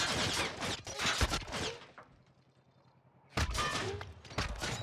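Enemy gunfire in the Warzone shooter game crackles in rapid bursts, with a quieter lull in the middle before the shots return loud.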